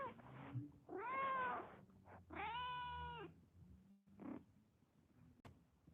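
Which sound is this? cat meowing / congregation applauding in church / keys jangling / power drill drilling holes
cat meowing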